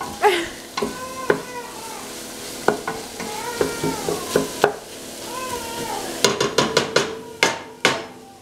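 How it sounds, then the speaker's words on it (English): Vegetables cooked in fat for a roux, for chicken and rice soup, sizzle steadily in a pot as a spoon stirs and knocks against it, the scrapes and taps getting quicker toward the end, heard up close. "to start making the roux up along with the veggies"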